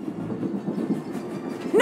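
Steady rumbling rail noise of a convoy train rolling along its track in a Star Wars game set on Umbara, a continuous low clatter heard alone at moderate level.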